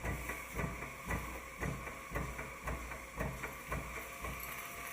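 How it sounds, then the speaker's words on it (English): A workshop engine driving an overhead line shaft and machinery at the Isle of Man Railway works, with a steady rhythmic thumping and clatter repeating about once per second over a constant mechanical hum. "The workshop engine is used to power the overhead line shaft, which in turn drives various pieces of machinery."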